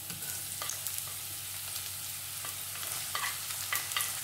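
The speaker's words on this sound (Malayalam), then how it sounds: "ചെറുതായിട്ട് അരിഞ്ഞു വെച്ചിരിക്കുന്ന സവാളയും പച്ചമുളകും കൂടെ ഇതിനകത്തോട്ട് ആഡ് ചെയ്യാം കേട്ടോ" Chopped onion and green chilli fry with garlic in a pan for chicken fried rice, giving a quiet, steady sizzle broken by occasional scrapes and stirring clatters.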